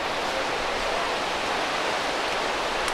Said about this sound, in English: you saw the rapids.